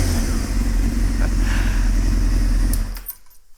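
A motorcycle engine with clean exhaust idles smooth but with an edge, a loud, steady low rumble close by that cuts off abruptly near the end, leaving near silence.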